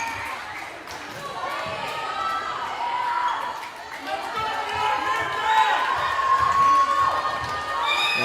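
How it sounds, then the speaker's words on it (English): A Nantucket volleyball crowd cheers and shouts in a school gym during a match against Bridgewater-Raynham, with rising excited voices and scattered yells growing louder toward the end. "Nantucket crowd coming to life across the way"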